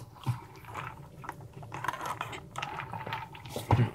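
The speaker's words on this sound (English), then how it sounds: "You might be able to hear all my chewing noises" Close, quiet crunching and chewing of a biscuit, irregular bites and mouth sounds with a couple of sharper crunches, no talking.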